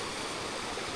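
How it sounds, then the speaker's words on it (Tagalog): A gently flowing river murmurs in an even, continuous rush of water, steady and close with no other sounds. "etong lagaslas nung ilog, hindi siya maingay"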